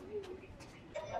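Pigeons coo softly at a zoo, a few low murmuring calls with faint chirps under quiet ambient noise, people speaking nearby.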